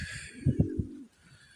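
Pet pigeons coo nearby in a short cluster of low, throaty pulses, three soft hoots in quick succession, before the sound fades into quiet background.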